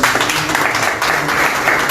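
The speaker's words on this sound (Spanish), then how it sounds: "Tenemos fuertes palmas" Audience applause at an academic talk in Peru, a steady dense wash of clapping from a crowd, sustained and fairly loud throughout without breaks.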